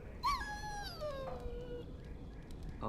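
A dog in the video game Dragon Age: Origins lets out a high, wavering whimper that slides downward into a drawn-out whine, close and clear over quiet background.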